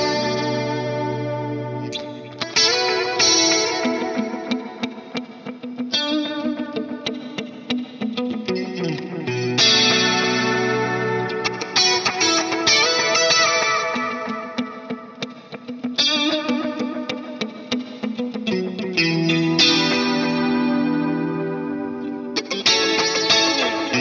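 Electric guitar with a 1980s-style tone shaped by chorus and compression, playing sustained chords and ringing arpeggiated phrases, shimmering and wide, loud and alone for the whole stretch.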